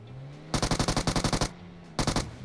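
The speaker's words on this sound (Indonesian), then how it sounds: "Ini dia, tembakan." Rapid automatic gunfire in a shooter video game: a loud, close burst of about ten quick shots, a short pause, then a second shorter burst, with no speech.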